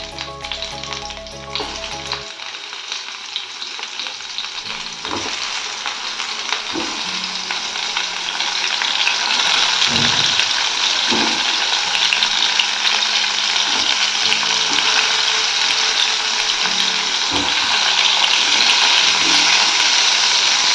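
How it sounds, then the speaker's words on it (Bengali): Sliced pointed gourd frying in hot oil in a pan, a loud steady sizzle that swells after the first few seconds and carries on continuously, with occasional stirring clinks and no talk. "পটল ভাজা।"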